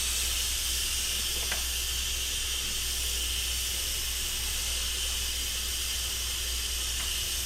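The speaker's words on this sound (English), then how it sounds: "Just letting the steam come out some" Steam hisses continuously and fairly loudly from the pressure release valve of an Instant Pot cooking birria, a steady unbroken rush with a low rumble underneath.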